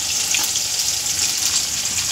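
Small green Beldanga chillies and tomatoes frying in a pan, a steady bright sizzle that stays close and even for the whole stretch with no talking over it.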